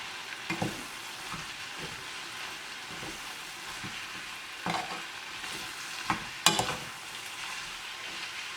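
Sri Lankan green bean curry with unroasted curry powder stirred in a pan, soft sizzling under intermittent scraping spoon strokes, a sharper clack near the end.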